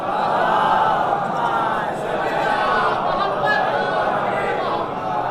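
A large congregation at a majlis chants salawat in unison, a loud, dense crowd of voices holding a sustained, echoing response.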